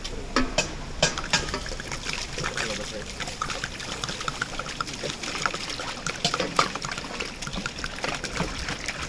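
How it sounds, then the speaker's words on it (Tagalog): Water poured into a cooking pot for pancit at a home gathering in Tarlac City: a steady splashing pour with occasional knocks and clatter, fairly close, with faint background voices. "Binuhat na yung tubig."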